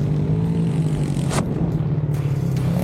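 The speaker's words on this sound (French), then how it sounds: "la moto elle prend beaucoup plus de tours" Ducati Hypermotard 698 single-cylinder motorcycle engine with a racing kit, revving high in a steady, loud, continuous drone heard from close by, with no talk over it.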